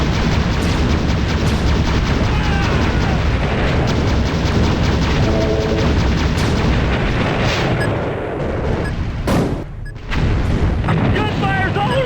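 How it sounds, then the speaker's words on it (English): Loud, dense gunfire and booming explosions from the sci-fi strategy game Uprising fill the scene continuously, with repeated bursts and blasts, a brief lull, then more impacts, and a voice talking over the combat. "Gunfire's all around me!"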